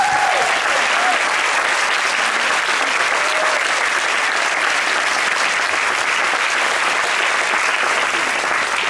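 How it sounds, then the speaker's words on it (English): Dense, loud applause from an audience at an agency celebration keynote, a continuous roar of clapping held steady for the full stretch. "Mom, stand up. We need to give you a round of applause."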